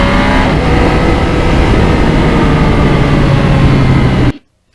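Yamaha MT-09 2020 crossplane triple engine pulling hard through the gears with a quick shifter on a back road, loud steady close-up drone with wind rush, cutting off abruptly near the end.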